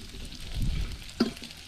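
Low, soft sizzling of carrot frying in a pan for plov, with a brief clatter of a utensil stirring near the middle; no talking.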